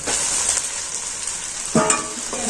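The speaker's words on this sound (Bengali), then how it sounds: "আবারও নাড়াচাড়া করে এটা ভেজে নিচ্ছি" Egg and potato frying in a pan while being stirred, a steady sizzle with scraping stir strokes that grow louder near the end.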